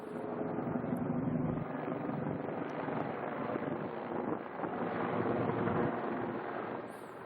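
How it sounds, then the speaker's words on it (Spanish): Helicopters fly over a wildfire, circling in rotation to drop water on the flames; a steady, loud rumbling roar of rotor and engine noise fills the whole stretch without any voices. "Vuelos de helicópteros que se están coordinando desde el puesto de mando avanzado"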